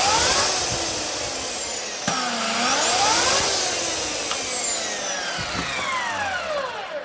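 A Black & Decker electric chainsaw runs loudly during a chain brake test, its motor whine rising and falling in sweeping pitch glides, with a sharp click as the brake catches and the motor winds down.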